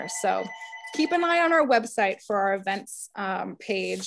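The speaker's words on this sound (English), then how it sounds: "I apologize for the phone ringing in the background." A telephone rings in the background of a recorded listening session, with faint tonal ring bursts under continuous close speech from a person talking throughout.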